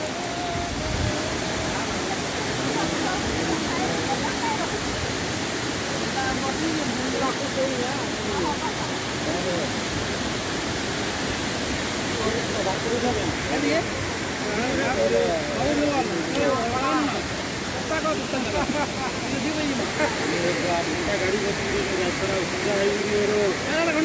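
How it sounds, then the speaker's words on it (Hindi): Khanda Dhar waterfall, water dropping more than a hundred meters, roars as a steady, dense broadband rush, loud and continuous throughout with no pauses. "सौ मीटर से ऊपर होगा जहाँ से पानी गिर रहा है।"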